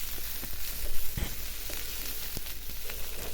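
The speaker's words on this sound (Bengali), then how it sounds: "এই যে আমি এখানে দিয়ে দিলাম পেঁয়াজটা আমি ভেজে নেব।" Onion fries in a pan with a moderate steady sizzle, punctuated by occasional light taps and stirring knocks close by.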